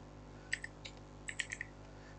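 A computer keyboard is typed on in a quiet room, with a handful of light, close key clicks in short irregular bursts over a faint background hum.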